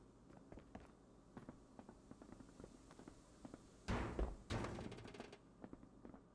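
Sprinting footsteps of a player character in the space combat game Marauders: a few heavy, loud booming thuds in the middle, set among faint scattered steps and clicks, with no talking.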